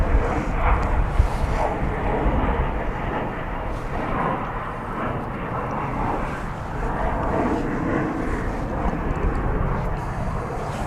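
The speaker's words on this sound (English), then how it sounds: "So there you see the twin Dreamliners" Twin Boeing 787 Dreamliner jets at DFW International Airport give off a broad, steady engine roar, fairly distant and continuous, with faint voices and radio chatter underneath.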